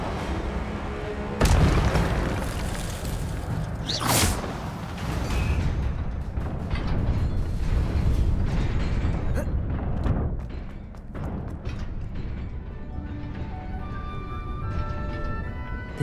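Incendio fire spell cast in the video game Hogwarts Legacy: a sharp burst and a whooshing boom near the start, then another bright flare, with rumbling game sound carrying on afterward.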